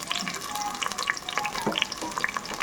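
Onions and green chilies fry in hot oil, a crackling sizzle with irregular pops and the scrape of stirring, close and continuous.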